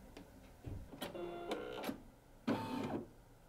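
Home embroidery machine stitching white thread: quiet, rapid mechanical chattering in several short bursts separated by pauses, close by and with no talk.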